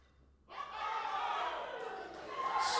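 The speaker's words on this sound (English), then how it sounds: "With cheering from the Samoan team, you can't hear yourself think for a moment." A Samoan team's supporters roar and cheer loudly at a youth and junior weightlifting championship as 83 kilos is loaded on the bar, a sustained crowd din swelling over a couple of seconds.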